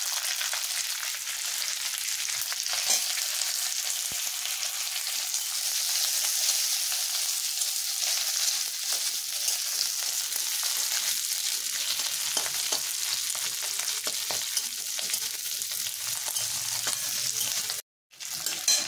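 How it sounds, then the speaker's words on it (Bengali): Salad onions sizzling in a pan with ginger and garlic for chili chicken, a long steady frying hiss with scattered stirring scrapes and a brief dropout near the end. "পেঁয়াজটা ভাজা হয়ে গিয়েছে"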